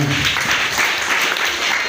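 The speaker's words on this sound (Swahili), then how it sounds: "Piga makofi kwa Bwana" Church congregation clapping hands together, a steady dense wash of many palms filling the room throughout, with no speech over it.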